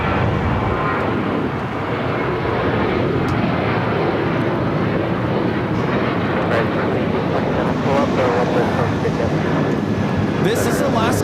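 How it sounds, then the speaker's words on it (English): An Alaska Airlines Boeing 737-900ER takes off at LAX, a loud, steady broadband jet roar that holds close and strong throughout, with voices talking over it. "this is Alaska Airlines 1418 taking off to Guadalajara on the 737-900ER"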